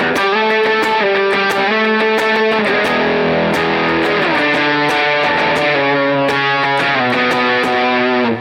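A distorted electric guitar plays a 90s alternative rock and grunge style solo, loud and continuous with quick picked and bent notes over a steady pulse, no voices.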